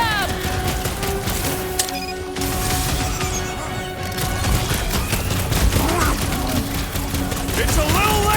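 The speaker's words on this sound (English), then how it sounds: "Just keep shooting them!" Rapid gunfire and blasts crackle through a busy combat scene in Marvel's Guardians of the Galaxy video game, continuous loud shots layered with impacts and effects.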